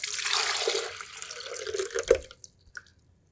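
Water is poured into a blender for a cauliflower batter, a splashing rush that tapers off into a few trailing drips, close and fairly quiet.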